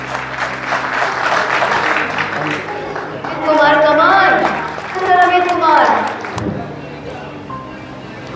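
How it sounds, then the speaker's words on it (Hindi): Applause rolls through a crowd at a pigeon-flying prize distribution in Patna, Bihar, swelling and easing in waves. A man calls out names over the clapping, which thins near the end. "एक बार जोरदार तालियों से सम्मान कर।"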